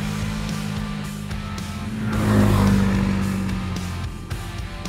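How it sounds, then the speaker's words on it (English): A CF-Moto CForce 1000 ATV's 1000cc engine revs hard at full throttle, its drone swelling to a loud peak mid-way and then easing off into a steady running hum. "CF-Moto CForce 1000. Throttle wide open, let's go!"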